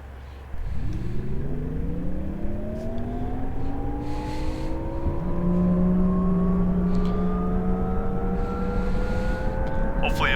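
A steady aircraft engine in the flight simulator DCS drones loudly, its pitch climbing slowly and continuously as it revs up, with a low rumble underneath.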